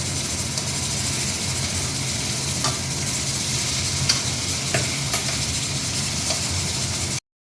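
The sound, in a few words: stirring fried pieces with spices in a pan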